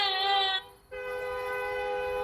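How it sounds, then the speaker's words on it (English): A train horn blares loudly and steadily nearby, cutting out briefly before sounding again in a long sustained tone. "He hears the sound of a train going by."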